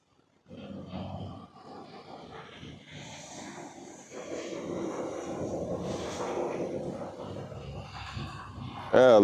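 A DJI Mini 5 Pro drone descends to land in a parking lot, its steady motor whine holding under a voice that talks throughout, with a sharp louder burst right at the end.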